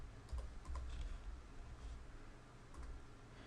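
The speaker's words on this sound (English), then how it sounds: "So I start typing blue" A few soft keystrokes on a computer keyboard, light scattered clicks over a low background hum, no talking.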